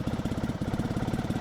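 Motorcycle engine running on half choke, idling with a steady, rapid pulsing beat that sags as it nearly stalls, close and fairly loud with no talk.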